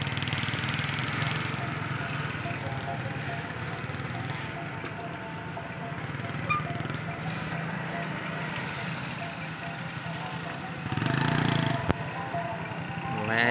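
A motorcycle engine runs nearby in a steady, continuous drone that holds at an even level for the whole stretch, with a brief swell near the end.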